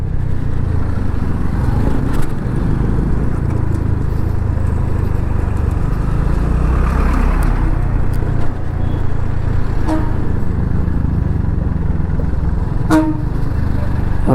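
Road traffic on a hill road in Ooty in chilly weather, a dense continuous engine rumble with a couple of short horn toots standing out near the end.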